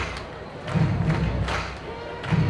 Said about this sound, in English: Fans stomping and clapping here at the ballpark.